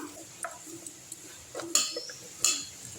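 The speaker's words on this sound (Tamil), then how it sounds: "இப்போ இதை நல்லா வந்து பரட்டி விட்டுடலாம்" Dried anchovies are stirred with chili powder, producing light, scattered clinks and scrapes of a spoon against a metal vessel, irregular and close, with a couple of sharper knocks and no talking.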